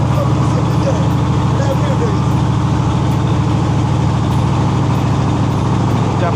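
A trawler boat's engine chugs steadily with an even, rapid pulse as the boat travels along a narrow canal lined with floating guava orchards in Bangladesh. The drone stays loud and constant, with a person talking over it.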